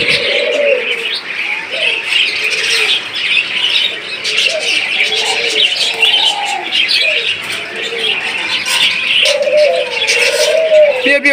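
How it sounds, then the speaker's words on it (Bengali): A pair of white Australian doves coo repeatedly up close, soft rolling calls mixed with chirps over a busy background of other caged birds. "এখানে দেখতে পাচ্ছেন একজোড়া অস্ট্রেলিয়ার সাদা ঘুঘু পাখি"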